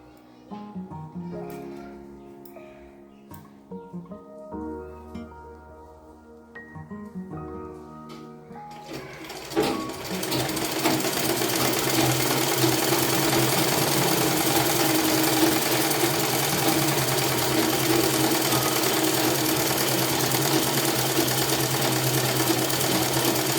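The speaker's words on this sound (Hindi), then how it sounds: "इसको सीधा सिल देते हैं। एक सिलाई ले लेते हैं इस पे।" An electric sewing machine stitches a blouse, starting after a few seconds of quiet handling sounds and then running as a loud, steady, close whirring rattle for the rest of the clip.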